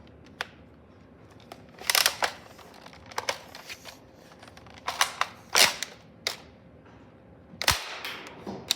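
An X-Shot Furry-X toy blaster fitted with a long shot barrel fires several sharp, snappy pops at irregular intervals, each a crisp close-up crack among fainter clicks of handling.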